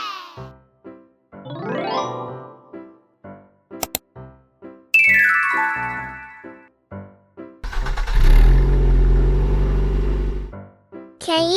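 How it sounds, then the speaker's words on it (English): A car engine starts and revs loudly for about three seconds, a broad low roar that swells and then cuts off, set amid bouncy music with chimes and whistling sweeps. "This is a car."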